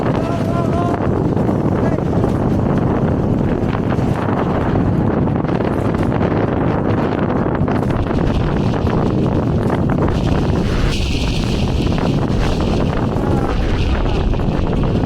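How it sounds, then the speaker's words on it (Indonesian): Strong wind buffets the microphone on the summit of Mount Agung in Bali, a loud, continuous roar and rumble that persists throughout with no pauses. "Cuaca cerah dengan angin yang bertiup sangat kencang"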